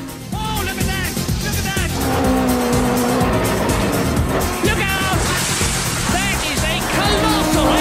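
Race cars from the original PlayStation Toca Touring Car game roar past with screeching tire squeals and skids, engine notes sweeping up and down over a dense, loud mix of repeated squeals and revving.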